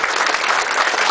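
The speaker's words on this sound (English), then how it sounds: "Let's give the community just a big round of applause as well." An audience at a Singapore Airlines gate ceremony for the first A380 flight from Singapore to Sydney claps, a dense, steady burst of many hands close by.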